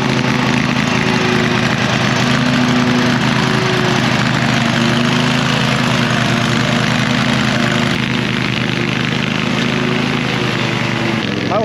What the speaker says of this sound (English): Mower doesn't sound too good. It sounds like a NASCAR mower.